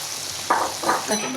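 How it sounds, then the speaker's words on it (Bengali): Meat hitting hot oil in a pan while cooking chicken biryani at home, two or three short sizzling bursts over a steady frying hiss, close by. "এখন মাংসগুলো দিয়ে দেবো"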